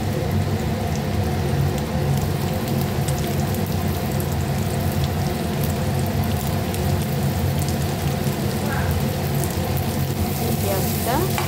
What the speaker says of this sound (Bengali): পেঁয়াজটা আর রসুনটা ভালো করে ভেজে নেব